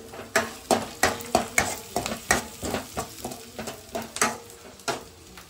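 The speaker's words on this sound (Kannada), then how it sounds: "ಈರುಳ್ಳಿ ಚೆನ್ನಾಗಿ ಫ್ರೈ ಆಗಿದೆ" Onions fry in a pan with a spoonful of ginger garlic paste added, giving steady sizzling broken by repeated sharp scraping stirs of a spoon, close and moderately loud with no talking.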